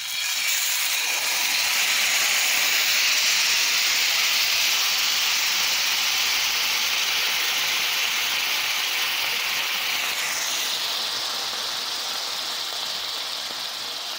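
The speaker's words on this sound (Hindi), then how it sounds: "ग्रिल पैन अच्छी तरह प्री हीट हो गया है। अब हम इस पर स्टेक का पीस रखेंगे।" A beef steak sears on a preheated, oiled grill pan, letting out a loud, steady hiss that swells within the first second and holds strong, easing only slightly toward the end, with no speech.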